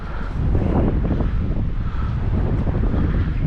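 Steady wind gusting across a microphone at Cleawox Lake in Florence, Oregon, a loud continuous low rumble and buffeting that fills the whole stretch with no voices.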